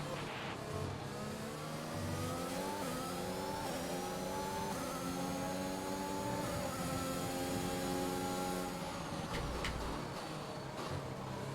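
A Formula 1 car engine in the F1 2021 racing game at the Abu Dhabi Grand Prix screams through rising and falling revs during a DRS-assisted overtake, loud and continuous with gear-shift steps.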